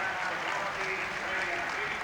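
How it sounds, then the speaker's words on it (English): A football crowd at a 1982 England friendly against Finland applauds a goal by Robson, a steady, broad wash of clapping and cheering heard from a distance, with a commentator's voice running over it. "But the applause is for Robson"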